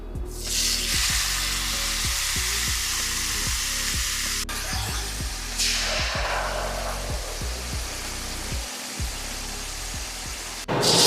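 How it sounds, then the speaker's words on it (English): Filet mignon searing in a cast iron pan, a dense loud sizzle heard close up over a low hum, with a few shifts in intensity and a knock at the end. "We're just going to pan sear that on my cast iron."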